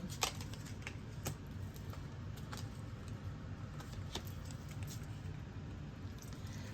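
Soft, quick riffling and snapping of tarot cards being shuffled, with small clicks scattered over a steady low hum, close by.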